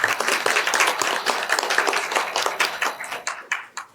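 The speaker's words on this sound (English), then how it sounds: "Applaud." Close, loud applause from a small audience at a city parks and recreation advisory board meeting, crisp hand claps steady at first and thinning out toward the end.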